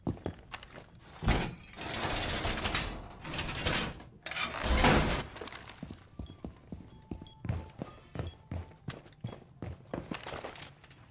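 Barricade going up in Rainbow Six Siege, a run of sharp rhythmic knocks and wooden clatter following a louder burst of mechanical noise.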